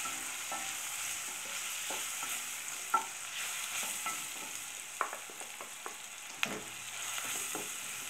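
Fish fries with turmeric and paprika while a spoon stirs it, making a steady low sizzle broken by scattered scrapes and taps on the pan, with no voices.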